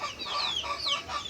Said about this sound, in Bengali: এগুলো আমাদের 4টা টাইগার মুরগি, আর 2টা আছে হচ্ছে দেশি মুরগি, একটা রাওয়া, একটা মুরগি